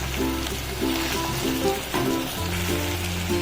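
Chopped tomatoes dropped into hot oil in a pan for spinach chicken curry sizzle and fry steadily, a close, continuous crackling hiss with a soft bubbling texture and no voices.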